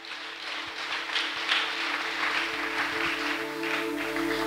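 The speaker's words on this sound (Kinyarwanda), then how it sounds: "Twakomera Imana amashyi" A church congregation applauds during a sermon, producing a sustained crowd clapping that swells slightly and stays steady for several seconds, with a faint hum underneath.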